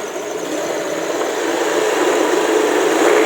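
A Honda Vario ESP motor scooter engine idles and runs smoothly without stumbling, a steady close-up whirring hum that rises slightly toward the end, with no voices.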